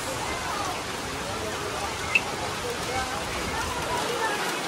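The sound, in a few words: rain falling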